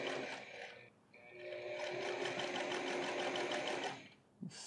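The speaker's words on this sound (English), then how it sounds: "And then I simply run these two horizontal seams." Running horizontal seams on jeans, a sewing machine whirs steadily through most of the stretch, pausing briefly near the start and stopping just before the end.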